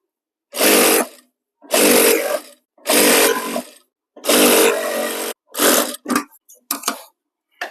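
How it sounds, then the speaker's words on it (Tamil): A sewing machine stitches blouse lining and fabric together in a series of separate whirring runs of about a second each, which grow shorter and choppier toward the end with silent pauses between them. "ஃபர்ஸ்ட் இங்கே ஓரமாக ஒரு பெரிய தையல் போட்டுக்கிறேன்"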